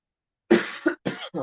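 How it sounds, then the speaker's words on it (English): A man coughs indoors, close up, in three or four harsh bursts after a brief silence, with no other sound around them. "Sorry for coughing in your face."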